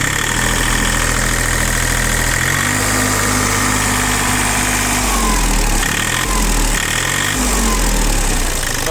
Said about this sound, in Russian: трактор работает достаточно ровно и очень даже хорошо